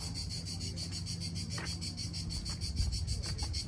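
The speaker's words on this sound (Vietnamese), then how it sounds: "Con ve ở ngay đâu đấy?" Cicadas buzz in a steady, shrill high drone near an old castle with sunny gardens on an island in the sea, loud and continuous throughout with no voices.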